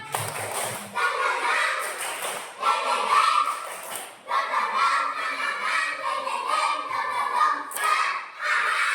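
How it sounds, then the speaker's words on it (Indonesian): Children in a classroom clap a rhythmic spirit clap, bursts of quick hand claps in a patterned beat with short pauses between phrases, young voices chanting along. "Tepuk semangat."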